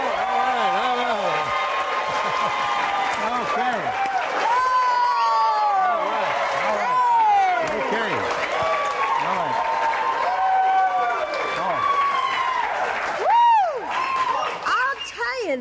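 A studio audience at a cooking show applauds loudly and at length, with whoops and cheering voices rising and falling over continuous clapping.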